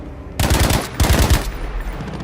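Gunfire in Battlefield 5 aimed at grenades thrown into the air: two rapid bursts of loud automatic shots, each lasting about half a second, with a brief gap between and a lingering rumble afterward.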